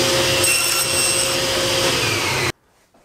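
Power tool cutting a hole in a piece of scrap ash wood, a loud steady whirring grind with a rasping edge that runs continuously and then stops abruptly, leaving near silence.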